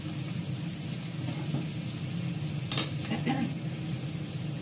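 Oil sizzles steadily in a pan ahead of frying chops, a continuous close hiss with a couple of brief scraping stirs partway through, no voices.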